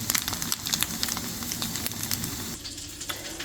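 Golden-brown refried rice patties fry in a skillet, giving a continuous close sizzle with scattered sharp crackles and spits throughout.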